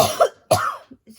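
Two sharp, close coughs a moment apart, followed by a couple of faint small sounds, with no talking.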